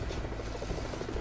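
Helicopter in the Lego Marvel video game on Xbox 360, a steady, loud rotor drone with a dense rumbling throb and no voices.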